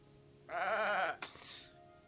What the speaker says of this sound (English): And these are some really cute goats.